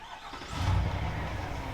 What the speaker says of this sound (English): let's fire this ZR2 back up